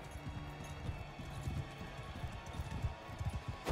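Horse hooves gallop in the medieval combat game Mount & Blade 2: Bannerlord, a rapid run of soft clip-clop thuds at low volume over a faint background hum.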